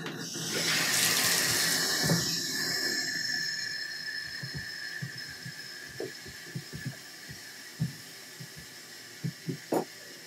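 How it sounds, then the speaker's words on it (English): Water running from a tap into a large rock tumbler barrel, a strong rushing pour at first that fades out, followed by scattered soft knocks and clunks. "let's put some more water in this thing"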